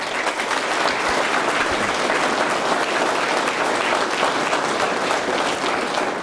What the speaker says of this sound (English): You guys all deserve all the recognition and a round of applause.